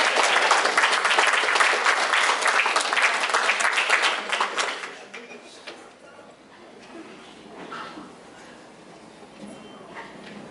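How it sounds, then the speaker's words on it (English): Banquet guests applaud during an awards ceremony, a full round of clapping that holds for about five seconds and then drops away to scattered claps, room noise and quiet talk. "Yeah, you can applaud him again."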